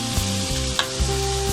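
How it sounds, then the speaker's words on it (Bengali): Chopped onion, carrot, capsicum and green chilli sizzle steadily in hot oil for a chicken chowmein, with a loud continuous crackle and a few stirring scrapes, no voices. "এবার তেলের মধ্যে দিয়ে দিলাম পেঁয়াজ কুচি, গাজর কুচি"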